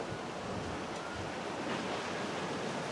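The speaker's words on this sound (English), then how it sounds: "As you can probably hear, it's quite windy now as well." Wind blowing outdoors in a vegetable garden, a steady broadband rushing and buffeting against the microphone that holds at an even level throughout, with no voices.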